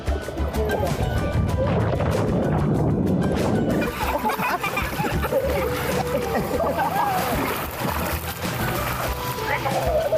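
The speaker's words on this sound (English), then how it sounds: "the kids are splashing around in the pool" Kids splash around in a family-friendly resort pool, sending up continuous loud sloshing and splattering water over a din of voices.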